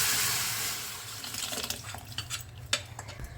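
Water splashing and pouring from a rinsed bowl into simmering tak dal with kul, a short running flow that grows choppier with a few splashes toward the end, close and fairly loud.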